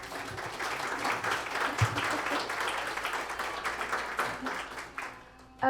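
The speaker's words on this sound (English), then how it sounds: "If we can give them a round of applause too." Audience applause at an architecture talk by young Indigenous architects, steady hall-wide clapping throughout, tapering slightly toward the end.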